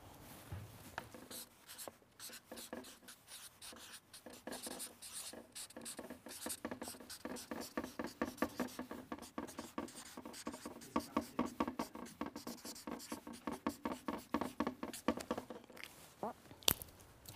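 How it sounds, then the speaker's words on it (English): Chalk or marker writing on a lecture-hall board, a long run of quick scratchy strokes and taps that grows busier and more rhythmic midway, fairly close, with no talking over it. "Let me write that for you."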